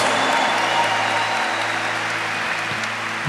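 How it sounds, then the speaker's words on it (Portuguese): Steady applause from a church congregation, a dense patter of clapping that holds at an even level throughout without pause. "Esse aplauso para a igreja foi muito fraco."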